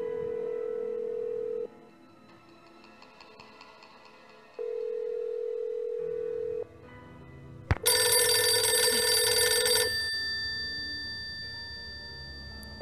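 A telephone rings in the Nancy Drew game The Final Scene: two long steady electronic ring tones with a gap between, then a louder bright burst of layered ringing that trails off, with no talking.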